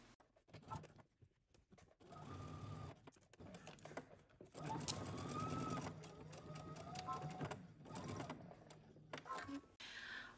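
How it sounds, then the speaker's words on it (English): A sewing machine stitching a dart on a jacket, running in several short bursts of steady whirring with pauses between, soft and close, with a little talk at the start. "I like to start in the center and stitch all the way in one direction till I stitch completely off my dart"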